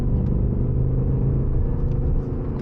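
A stock car rumbles heavily from inside the cabin, a deep steady engine drone under light acceleration, loud and close for a few seconds, easing slightly toward the end with no talking.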